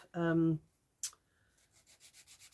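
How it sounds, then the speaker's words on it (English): A small piece of sandpaper rubs along the edges of a paper card, giving a short run of quick, faint rhythmic strokes near the end, preceded by a brief vocal sound and a sharp tap. "A little bit of sandpaper, and I'm just going to get rid of those pips."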